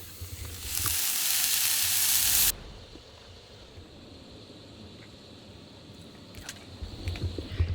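Turkey and Brussels sprouts sautéing in a pan, a loud close hiss of sizzling for a couple of seconds that drops to a quieter simmer with occasional clinks.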